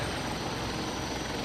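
Continuous loud whirring drone of an AW-109 helicopter in the Prepar3D flight simulator, steady rotor and engine noise with no talk.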